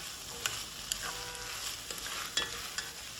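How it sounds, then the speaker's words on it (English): Mushrooms and wild rice sauté in a soup pot, a soft, steady sizzle broken by a few light scraping stirs, quiet and close with no talking. "So I'm going to let that saute up for a little bit."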